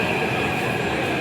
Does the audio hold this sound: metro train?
yes